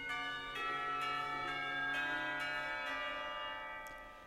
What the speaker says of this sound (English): The school bell rings out, reminding us that time isn't going to stand still.